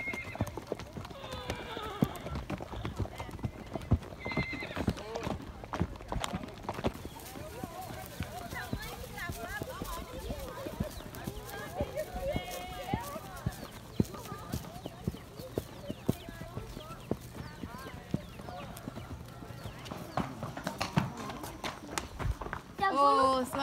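Horse walking at a riding stable, hooves clip-clopping in a steady irregular rhythm nearby, with occasional neighs, while people talk throughout.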